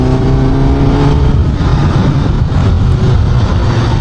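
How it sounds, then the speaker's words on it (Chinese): A Honda CB500SF four-cylinder motorcycle engine accelerating, a loud, close, continuous smooth roar that holds steady and rises in tone throughout. "这个声音，这个动力上升，就是4缸机的那种特性。"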